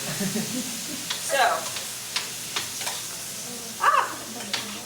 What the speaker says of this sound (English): This is where everyone wants to see sizzling stuff